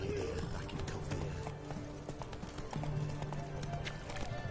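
Roach, the horse in the video game The Witcher 3: Wild Hunt, gallops with a rapid, close clip-clop of hooves that runs throughout, alongside game ambience and background music.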